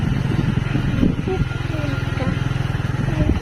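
A motorcycle engine runs steadily nearby, a low pulsing drone throughout, with people talking over it.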